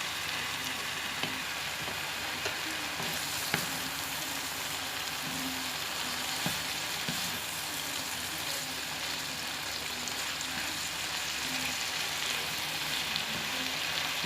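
Mushrooms for a creamy chicken pie sauté in a pan, giving a continuous even sizzle with occasional faint clicks and stirs, steady and unbroken throughout.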